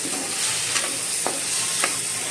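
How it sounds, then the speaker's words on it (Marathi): Ginger garlic paste fries and sizzles in a pan while a spoon stirs it, a continuous close hiss with a few scraping strokes, no talk. "मी आता त्याच्यामध्ये आलं लसूणची पेस्ट टाकते ती पण चांगली भाजून घेते"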